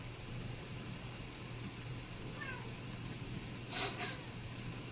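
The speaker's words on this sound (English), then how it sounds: "you can hear the cat" A house cat lets out a faint, brief meow over the steady whir of a fan, followed moments later by a slightly louder short cry, both distant and soft.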